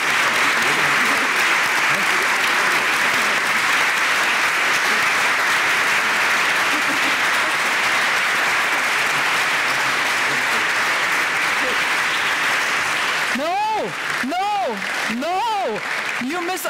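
Sustained loud applause from an award ceremony audience fills the room steadily, then gives way near the end to a few rising whoops or vocal sweeps over the clapping.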